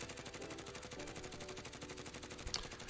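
The Grau 5.56 rifle fires in Call of Duty: Warzone as one long, rapid automatic burst of even pulses, held steady and fairly loud to the end.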